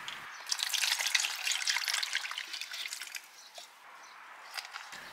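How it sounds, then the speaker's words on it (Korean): Water pours and trickles while being changed in a cutting propagation tray, a close splashing, gurgling flow that eases off partway through and turns to a lighter dribble. "삽목판 물이 더러워졌다면 깨끗한 물로 바꿔줘야 하는데요"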